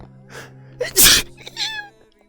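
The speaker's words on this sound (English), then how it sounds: "I'm gonna sneeze." A single sharp human sneeze bursts out loudly after a brief intake of breath, with a short vocal sound following it, over a faint steady background hum.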